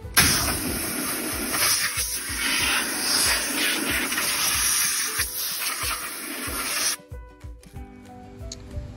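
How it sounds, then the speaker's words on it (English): Compressed air from a hose blasts across a steel M37 truck rim, a steady broadband hiss with rubbing, fluttering texture for about seven seconds before cutting off abruptly, leaving quieter room noise. "So give it a little rub with an air hose."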